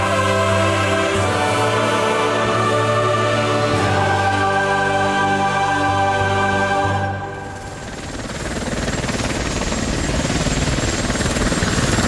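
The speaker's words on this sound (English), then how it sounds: "Merlin helicopter lands at Checkpoint Toki" A Merlin helicopter's loud, steady rotor and turbine whine fills the air, shifting into a rougher rushing roar as it descends and settles at a checkpoint in Afghanistan.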